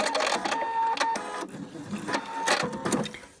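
A sewing machine runs a few backstitches on bias tape, with close mechanical whirring in short bursts, brief pauses and a rhythmic stitching clatter.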